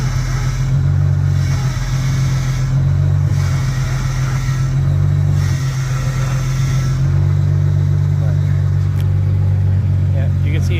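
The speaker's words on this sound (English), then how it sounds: "Alright, so I've got the car started." A car engine idles steadily after starting, a loud low drone with a slight rhythmic rise and fall close by, and a voice faint beneath it.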